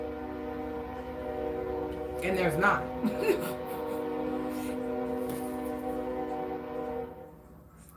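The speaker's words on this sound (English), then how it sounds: "now the train has stopped having fun with his little horn" A train horn blows at night, long steady tones held for several seconds with a slightly wavering pitch, heard from a distance beneath a person talking.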